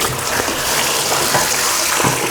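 Steady rushing water flows continuously from a bathroom water line that should be shut off, a broad hiss like a pipe running at full force, fairly close.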